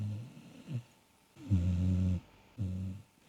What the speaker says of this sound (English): Can you hear my dog snoring?